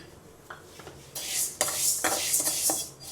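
Moong dal, a bit under 100 grams, roasts lightly in a hot pan, with repeated scraping and stirring strokes of a metal spoon against the pan, close by and fairly quiet.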